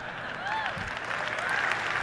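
An audience breaks into brief, steady applause, a dense wash of clapping that holds for a couple of seconds.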